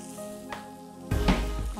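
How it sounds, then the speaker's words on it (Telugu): Beans frying in a pan produce a soft sizzle that turns into a louder, fuller hiss and spatter partway through, close by, with no talking. "ఆల్రైట్, బీన్స్ని ఫ్రై చేసుకుంటున్నాము"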